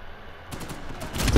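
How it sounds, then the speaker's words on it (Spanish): Rapid video game gunfire bursts in after a quiet lead-in, a fast rattling volley that grows louder toward the end, with no talk over it. "Se vienen los tiros."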